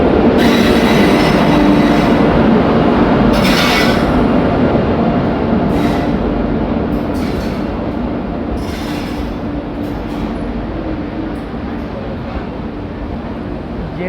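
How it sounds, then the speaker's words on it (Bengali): An Uttarbanga Express train hauled by a WB7 locomotive rolls into a station, with loud, close wheel rumble, squealing and clattering that slowly ease as it arrives. "শিয়ালদা সেটের WB7 লোকোমোটিভের সাথে ট্রেন এসে পৌঁছালো।"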